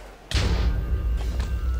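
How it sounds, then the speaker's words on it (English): A Wither spawn explosion in Minecraft Feed The Beast: a sudden loud, deep boom that stays heavy and sustained for over a second, with a rumbling tail and faint later bursts. "So obviously the build up and the explode."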